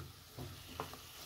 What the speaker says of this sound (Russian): Все это быстро обжариваю на среднем огне.